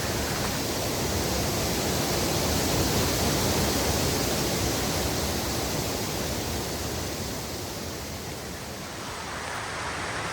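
Rushing water from a stream and waterfalls along the Chuck Keiper Trail, a dense, steady roar of falling and flowing water heard up close, with no voices.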